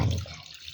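Coconut milk poured into a cooking pot in a Kerala kitchen, a brief close liquid splash that tapers off quickly.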